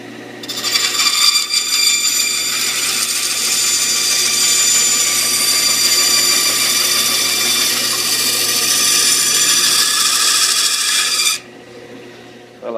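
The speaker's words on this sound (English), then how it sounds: "now I'm going to use the bandsaw to trim off the outside of the spoon" A bandsaw cutting wood to shape a spoon blank, a loud steady high-pitched whine and rasp held for about ten seconds before the cut ends and the motor drops away.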